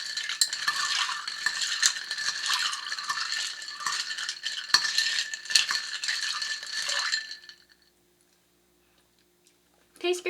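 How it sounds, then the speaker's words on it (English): A spoon stirred briskly in circles inside a glass holding a mixed drink, a fast continuous metallic clinking and rattling for about seven seconds that abruptly stops, followed by silence and a brief final clink. "you take your spoon and stir it in a circular motion so everything gets mixed together"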